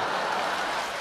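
Audience applause at a Deyun Society crosstalk show with Guo Degang and Yu Qian, a steady dense wash of clapping from a large crowd, loud and continuous for the brief moment.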